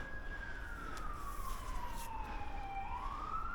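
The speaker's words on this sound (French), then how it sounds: "il y a une ambulance qui passe" An ambulance siren passes outside a medical office during window cleaning, one long sweeping wail that falls in pitch and then rises again over steady background noise.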